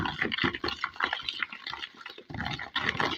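A homemade liquid shampoo mixture of Texapon and rice water being stirred in a container, giving close, squelchy sloshing bursts in an irregular rhythm with a brief lull partway through.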